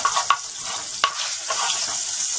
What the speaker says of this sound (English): a little bit of roasting going on